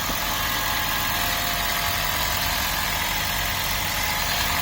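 An old engine idles steadily during hydrogen carbon cleaning of its valves, a loud, constant, unbroken rumble with a steady vibration that holds throughout.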